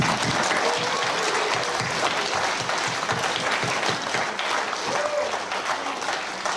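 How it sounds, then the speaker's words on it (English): A school hall crowd gives a sustained round of applause at a prizegiving for graduating Year 8 children, a dense steady roar of clapping lasting throughout with no voices over it. "Please join with me in congratulating, farewelling and wishing our Year 8 children well with a round of applause."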